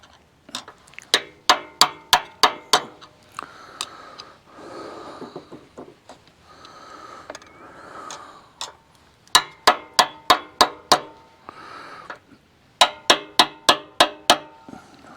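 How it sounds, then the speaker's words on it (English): Metal tapping on a screwdriver set against a track loader axle part, bursts of quick sharp clinks in rapid regular series, repeated several times with brief pauses, close and loud. "take a screwdriver and tap on it with something"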